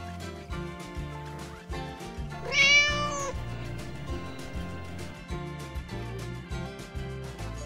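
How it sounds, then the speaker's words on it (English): A single drawn-out cat meow, loud and close, rising then falling, set over steady background music. "Meow."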